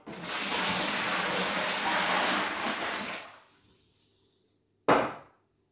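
Five litres of warm water pours steadily into a homebrew fermenter with a broad rushing hiss for about three seconds, then stops; a sharp knock follows after a brief silence.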